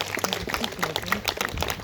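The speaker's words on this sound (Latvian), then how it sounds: "Aplausi Rimantam." An audience at a folk musicians' festival concert applauds Lithuanian musician Rimantas Treigis with a brief burst of clapping from many hands, mixed with crowd murmur and voices.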